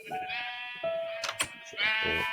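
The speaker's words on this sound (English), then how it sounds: "So there's lots of sheep. More in there." Sheep in the Minecraft video game bleat in several drawn-out, wavering calls one after another, loud and close with no talk over them.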